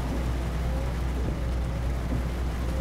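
Steady rain falls in Euro Truck Simulator 2 while driving through the French countryside, a dense, even hiss of drops over a low engine rumble, continuous and close throughout.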